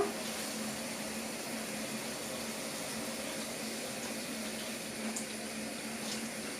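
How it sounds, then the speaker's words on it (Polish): Tap water pouring steadily over sliced button mushrooms in a pot while making homemade mushroom soup, a continuous close hiss and splash with no talk. "Także ja zaleję wodą."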